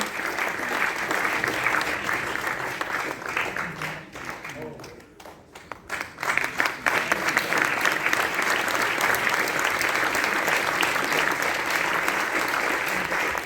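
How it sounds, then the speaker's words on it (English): Sustained applause from a concert audience fills the room, dense and steady, dipping briefly in the middle before swelling louder again and holding strong to the end; speech 0.77 is tagged but no voice stands out clearly over the clapping. "A louder round of applause"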